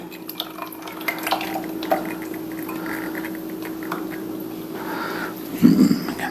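Cooled melted butter is stirred into the wet ingredients for pumpkin spice whoopie pies, with soft wet swishing and light scraping in a bowl, a steady low hum beneath, and a clink near the end.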